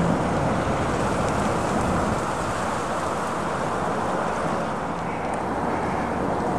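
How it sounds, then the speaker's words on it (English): Strong wind of about 20-30 mph, gusting into the 40s, roars across the microphone in a constant, heavy rush of noise outdoors during a wildfowl hunt, with no voices. "we're having winds now, probably about 20-30 mile an hour with the gusts up to the"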